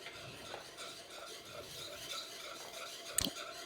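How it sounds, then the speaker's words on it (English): A spoon stirs a flour roux for turkey gravy in a pan, a soft continuous scraping and rubbing close by with a faint sizzle beneath and one sharp metallic clink near the end. "it's very important that you continue to stir this"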